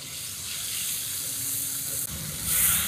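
A spice mixture of onion, tomato, salt and nigella seeds sizzling in a pan after a little water goes in, a constant moderate hiss that swells louder near the end.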